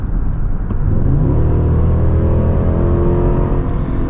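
A 2023 Cadillac Escalade's GM 6.2-liter V8 revs up steadily, its loud, deep engine note rising in pitch and staying close and continuous without any voices.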